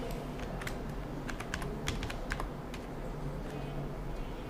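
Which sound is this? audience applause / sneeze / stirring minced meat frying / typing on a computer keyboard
typing on a computer keyboard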